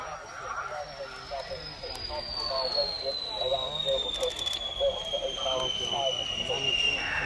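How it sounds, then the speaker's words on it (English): An MS.760 Paris jet coming in to land at the Yeovilton Air Day shows, with a thin, high turbine whine that slowly glides downward in pitch as it passes, while a voice talks over it. "So here comes the Paris into land"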